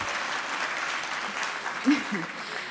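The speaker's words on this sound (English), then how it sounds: "give yourself a round of applause, for being here" Audience applause at the opening night of the 2012 Time of the Writer festival, a steady wash of many hands clapping throughout, with a few brief voices rising near the end.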